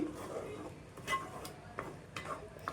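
Chopped onions with a little salt sizzle and get stirred in a pan for boti curry, a soft steady fry broken by light scraping ticks of the spoon, close and quiet with no talking.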